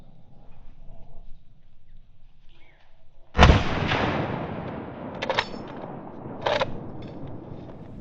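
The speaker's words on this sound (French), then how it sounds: "Malheureusement, aucun de mes tirs ne touchera l'animal." A hunting rifle shot fired at a roe deer during a driven hunt rings out sharply once, followed by two fainter, shorter reports trailing off, over quiet outdoor ambience.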